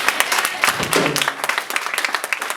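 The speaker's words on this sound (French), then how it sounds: "Est-ce qu'on peut donner acclamation pour le Seigneur?" A church congregation applauds and cheers during a French-language sermon, a burst of scattered clapping with voices mixed in that stays fairly steady throughout.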